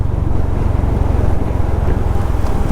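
A Honda CB350 RS motorcycle ridden along the road hands-free, with steady low engine thrum and heavy wind rush buffeting the microphone throughout, loud and continuous.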